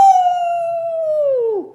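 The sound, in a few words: voice imitating a dog's howl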